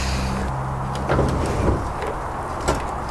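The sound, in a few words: roll-up box van door sliding and rolling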